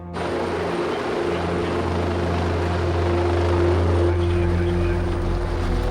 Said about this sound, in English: We knew at this point a helicopter was coming that could easily winch him away.